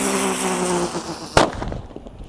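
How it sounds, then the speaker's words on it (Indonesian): A spinning teratetor firecracker goes off at night with a single sharp close bang, after steady hissing and fizzing, followed by fading crackle and scattered pops. "di sini ada mercon teratetor. Ini bisa berputar guys"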